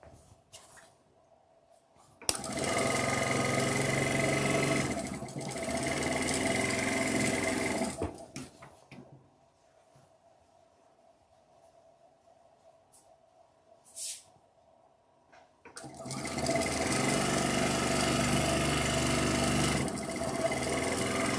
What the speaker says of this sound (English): Let's sew that row of blocks that I just made